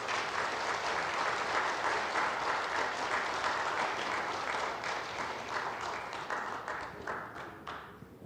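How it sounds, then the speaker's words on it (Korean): An audience at a launch ceremony for a national low-birth-rate campaign in Busan applauds warmly to welcome a singer, a steady, dense clapping that holds for several seconds and then thins out toward the end. "우리 나오실 때 뜨거운 박수로 환영하겠습니다."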